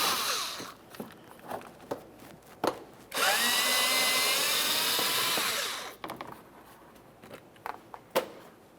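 A power tool spins out 5.5mm screws holding the inner fender liner on a 2004-2008 Ford F-150, with one sustained whirring run of about three seconds between short bursts and scattered clicks and knocks, close up.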